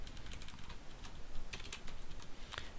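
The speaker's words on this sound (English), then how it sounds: "Cool typing, bro." Rapid keystrokes on a computer keyboard, clicking in a quick irregular run of taps at close range with no voices.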